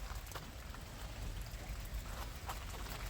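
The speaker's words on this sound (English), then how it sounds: "Told you it was raining." Steady outdoor rainfall patters continuously with dense, even texture and a low rumbling undertone, with a few sharper drop hits standing out, moderately near and with no speech over it.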